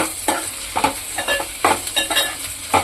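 Curry leaves sizzle in hot oil in a pan, a constant frying hiss broken by a series of quick scraping stirs that come in short, uneven bursts close by.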